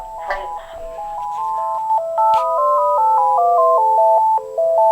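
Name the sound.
Uniden D3098 cordless phone handset ringing with caller announcement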